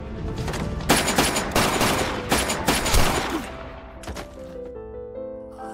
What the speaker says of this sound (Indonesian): mereka masih berusaha untuk bertahan hidup dengan menembaki Han berkali-kali menggunakan senjata